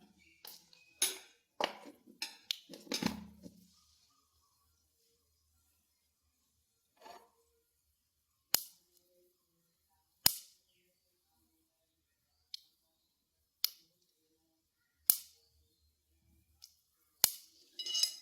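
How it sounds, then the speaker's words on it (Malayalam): Mustard seeds crackle in hot coconut oil in a cooking pot, giving a quick cluster of sharp pops followed by sparse, isolated snaps spaced a second or two apart in an otherwise quiet kitchen. "കടുക് പൊട്ടുന്നു"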